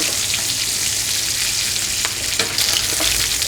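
Fritters fry in a hot pan alongside wilting spinach, giving a steady, close, bright sizzle with occasional crackles and small pops throughout, no talking.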